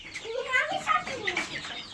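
Startled chickens cluck and squawk in quick agitated bursts nearby, sounding loud and close for a couple of seconds.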